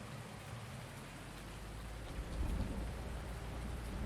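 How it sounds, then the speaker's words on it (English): Rain pours steadily in the Farming Simulator 19 game on the Ravenport map, a dense, even hiss with low rumbling underneath that swells slightly midway, with no talk. "Man, the rain is coming down, isn't it?"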